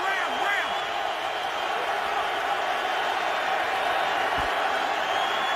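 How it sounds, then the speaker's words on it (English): Stadium crowd at a San Diego Chargers home NFL football game against the Minnesota Vikings, a loud continuous roar of cheering with whoops, under a commentator talking. "And the San Diego crowd is back in the game."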